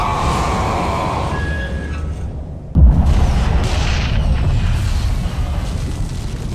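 A heavy explosion in the video game Bulletstorm, one sudden deep boom partway through that rolls into a long rumbling decay, preceded by quieter game noise.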